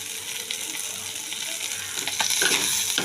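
Fried brinjal and chopped green chilli stirred into fish oil pouches (tel potka) sizzling in a pan: steady hissing frying with scraping spatula strokes that grow louder and busier toward the end, no talking.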